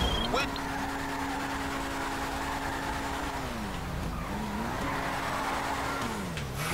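A light, high-torque car in GTA V breaks its rear wheels free, a steady tire squeal over engine drone that dips and shifts pitch mid-slide, with no speech over it.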